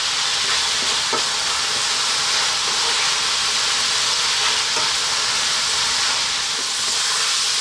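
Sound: kale stir frying in a pan for beef curry

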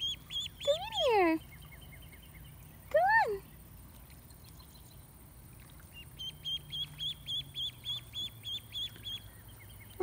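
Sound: ducks and lone duckling quacking

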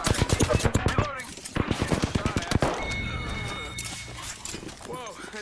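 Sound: gunfire from enemies in a video game

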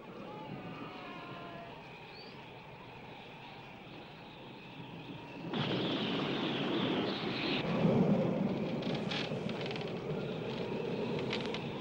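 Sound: thunderstorm in a film

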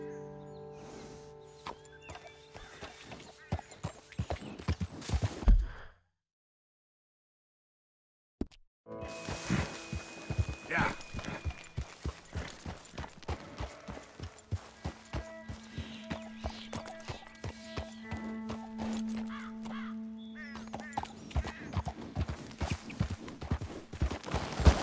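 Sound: horse hooves clip-clopping in a video game

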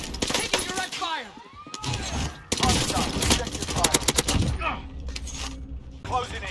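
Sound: gunfire from a video game

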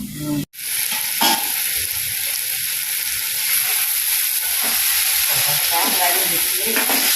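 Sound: okra sautéing in a pan

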